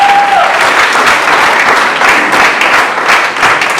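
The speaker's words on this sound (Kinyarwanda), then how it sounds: "Reka duhe Imana yacu amashyi menshi" A church congregation claps loudly and steadily, a dense, continuous wash of applause filling the whole stretch, close and enthusiastic, offered in praise during a service.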